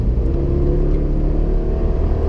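A 2018 Subaru Impreza accelerates hard onto a highway, its engine a steady, loud rumbling drone heard from inside the car with no talking.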